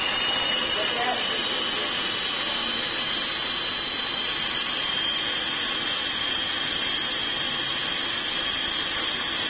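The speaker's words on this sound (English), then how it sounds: "we're going to take it in our food processor. Whip it up." A food processor whips up kale and avocado salad, running as a continuous loud whirring hiss with no breaks from start to finish.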